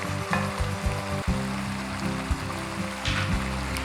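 Chicken sizzles steadily in a pan for a Tamil curry-leaf chicken as a dry-roasted powder of curry leaves, pepper, cumin and fennel is stirred in, with a few soft knocks of a spoon against the pan and no voices.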